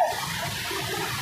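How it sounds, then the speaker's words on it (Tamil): Swollen forest river at Kozhikkarai in the Nilgiris Western Ghats, rushing hard after rain, a steady broadband roar of churning water heard up close without a break. "ஆனால் இந்த டைம் பாருங்கள் மழை பெஞ்சதுனால எப்படி போகுதுன்னு சொல்லி ஆர்ப்பரித்து ஓடுது"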